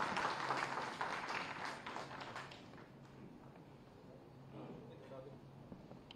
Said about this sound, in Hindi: एक बार फिर तालियों से माननीय मुख्यमंत्री का